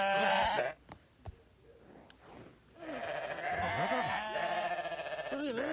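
Sheep bleat loudly at first in the game WorldBox, then after a quieter stretch a chorus of wavering bleats returns with layered game sounds, nearly continuous.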